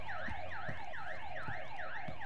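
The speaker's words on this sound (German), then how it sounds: "Ja gut, wegen dem Alarm halt." A wailing electronic alarm siren sounds in the video game Battlefield Hardline, rising and falling in a steady repeating cycle about twice a second, loud and continuous with faint thumps beneath.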